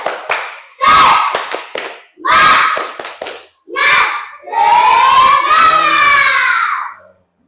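Group ice-breaking spirit clap in a classroom session: bursts of rhythmic hand clapping in short patterned sets, mixed with loud shouted chanting voices, ending in a long sustained group cheer.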